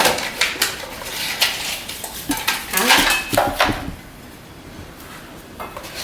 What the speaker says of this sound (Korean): 그릇이 되게 가벼워요. 얘가 범랑 소재거든요.